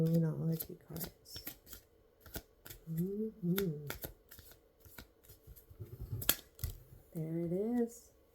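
Moonology oracle cards being shuffled and handled in short crisp bursts of riffling and slapping, close by, interleaved with a voice talking quietly between the shuffles.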